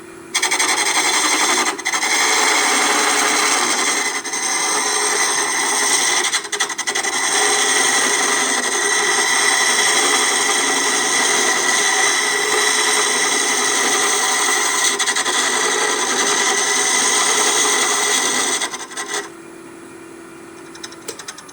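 A wooden workpiece spinning on a lathe while a hollowing tool cuts into it makes a loud, continuous rasping scrape. The sound runs steadily for about nineteen seconds, then stops abruptly, leaving only a faint quiet hum.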